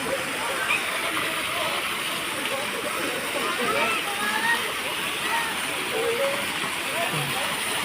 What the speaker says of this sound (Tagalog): Ito yung Binaldusan Falls.